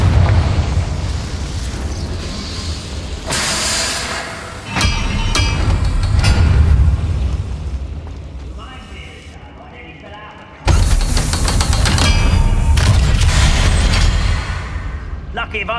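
Confringo fire spell bursting in Hogwarts Legacy, a loud booming explosion with crackling debris, followed by a second heavy blast after a quieter gap, with a voice speaking during the game action.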